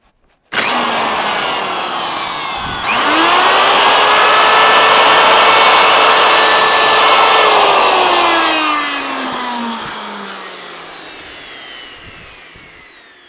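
A wood router cuts timber during the restoration of a 1959 Reliant Regal Mk V. It gives a loud, close, continuous whirring screech that rises in pitch after a few seconds, holds steady, then winds down as the motor slows.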